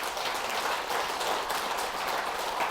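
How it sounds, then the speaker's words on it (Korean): Audience applause at a Buddhist dharma service, a dense steady patter of many hands clapping continuously throughout. "혹시 여기 박수 한번 부탁드릴게요"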